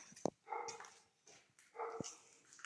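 Dogs barking faintly at an abandoned cheese factory, a few short scattered barks and yips with quiet gaps between them.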